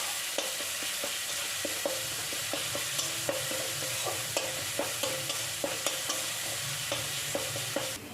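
Garlic paste with salt and turmeric sizzles steadily in a pan while a spatula scrapes and stirs it in regular, close strokes, the frying hiss continuous beneath the repeated clicks.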